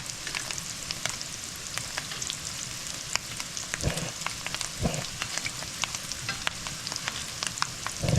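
Steady crackling sizzle of wild morel mushrooms frying in a skillet, with scattered pops and a couple of low thumps, no talking.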